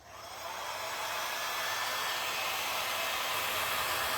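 A hair dryer or heat gun switches on and blows hot air over denim jeans, the whooshing hiss rising within half a second and then holding steady and loud.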